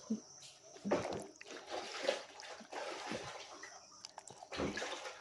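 Water is poured into a pan of longganisa sausage with sugar and salt, giving splashing, sloshing bursts and trickles in irregular pulses, fairly close and soft.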